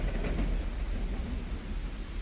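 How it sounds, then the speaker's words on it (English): Heavy rain pours steadily with low thunder rumbling beneath it, a dense, continuous storm wash drumming on a massive wooden ark, loud and close with no voices. "Noah's family listened as the rain battered the ark without let up."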